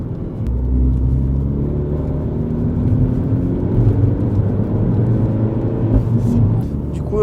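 A Mini JCW with a 300 hp engine and its exhaust valves open rumbles steadily with a low droning exhaust note and mild revving, close up, while people talk over it.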